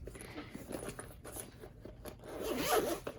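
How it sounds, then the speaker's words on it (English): Close, quiet rasp of a zipper being drawn open on a semi-hard Redline Easy Connect carrying case, with light rubbing of fabric and a slightly louder burst of zipping toward the end, no talking. "Unzip it, and then it comes with all these like connection pieces"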